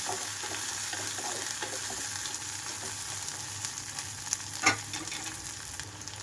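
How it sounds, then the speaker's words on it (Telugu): Ginger garlic paste fries in hot oil over a high flame, giving a steady close sizzle with a brief stirring scrape near the end. "హై ఫ్లేమ్లోనే ఉంచి వేయించుకుంటున్నాను"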